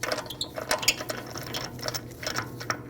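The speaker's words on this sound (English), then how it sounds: "remove your last lug bolt" A lug bolt being turned out of a Mercedes-Benz GLC300 front wheel, heard as quiet, close ratcheting clicks and small metallic ticks in a steady irregular patter.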